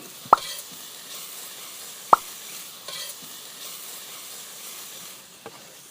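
Mushrooms cooking slowly in a pan with flat leaf parsley and thyme give a soft, steady sizzle, broken by a few sharp clicks of a utensil stirring against the pan.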